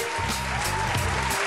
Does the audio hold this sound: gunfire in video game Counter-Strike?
no